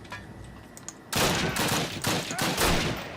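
Gunfire in a Call of Duty ship battle, loud dense bursts of rapid shots that start abruptly after a quiet moment and continue in repeated clusters.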